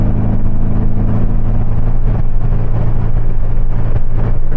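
A car engine fed by Weber IDF carburettors revving up, a loud, steady rising drone heard close with no talk over it.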